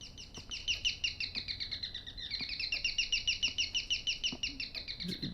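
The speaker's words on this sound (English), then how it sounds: "Is there a bird in my house?" Bird chirps in the horror video game Devotion: a rapid, repeated run of bright high tweets, steady and close, with faint clicks beneath and no speech.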